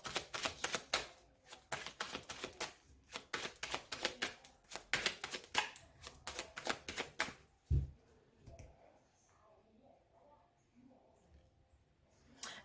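Tarot cards are shuffled in a quick run of crisp, flicking riffles, then cut with a soft thump and a few quiet rustles, all close and faint.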